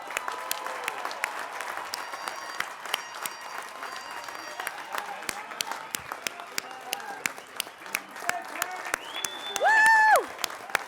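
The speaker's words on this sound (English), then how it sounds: "How about one more big round of applause for our graduates?" A large crowd applauds graduates at a commencement ceremony, a continuous wash of clapping with scattered cheers and voices mixed in, swelling louder near the end.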